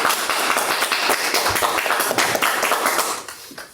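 An audience in a lecture hall claps to welcome a speaker: brisk, crowded applause at full strength that thins out and fades away near the end.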